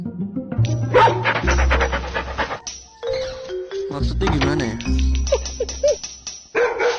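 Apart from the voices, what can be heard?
dog barking in video game Robbery Bob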